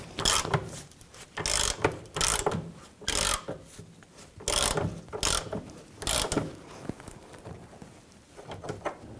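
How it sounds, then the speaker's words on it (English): A hand ratchet tightens the forward control arm bolt on a 1999-2004 Jeep Grand Cherokee, giving a series of rhythmic clicking strokes in short bursts, fairly close and moderately loud, with no voices. "Tighten up the forward mounted bolt."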